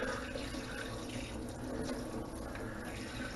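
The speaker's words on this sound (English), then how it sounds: "This also gives you an opportunity to rinse out the abdominal cavity of the fish while you're cleaning it." Tap water runs steadily while rinsing out the abdominal cavity of a trout being cleaned, a continuous close splashing stream with no pauses and no talk.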